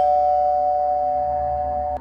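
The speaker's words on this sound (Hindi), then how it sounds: "फिर तीसरी बार डोरबेल बजी।" A single sustained electronic chime tone rings steadily, like a doorbell, then cuts off with a faint click near the end.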